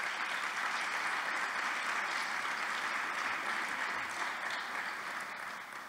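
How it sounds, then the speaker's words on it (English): Graduates at a university fall convocation applaud in a large hall, a dense, sustained wash of many hands clapping at moderate distance that holds steady and then begins to taper off near the end. "Please give yourselves a hand on that."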